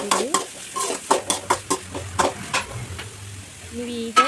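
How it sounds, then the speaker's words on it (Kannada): Chopped onions fry in a pan for gobi manchurian, a steady sizzle broken by repeated scraping strokes of a spatula stirring, close and clear, while someone speaks over it. "ಈಗ 2 ಈರುಳ್ಳಿ ಸಣ್ಣದಾಗಿ ಕಟ್ ಮಾಡಿ ಇಟ್ಕೊಂಡಿರೋಂಥದ್ದನ್ನು ಕೂಡ ಹಾಕಿ ಇಟ್ಕೊಂಡು ಫ್ರೈ ಮಾಡ್ಕೊಳ್ತಾ ಇದ್ದೀನಿ"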